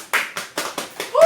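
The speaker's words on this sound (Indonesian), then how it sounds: "tepuk tangan untuk kelompok 2" Classroom pupils clap in a rhythmic unison pattern for group 2 during a fourth-grade social studies lesson, with five or six sharp, evenly spaced claps close by.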